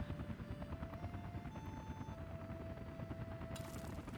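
A helicopter in the Soviet-era city-building game Workers & Resources: Soviet Republic gives a continuous, faint rotor chop under steady game ambience, with a few thin interface tones over it.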